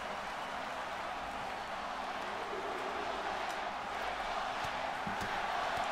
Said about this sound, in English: Oh my God, crowd shut up.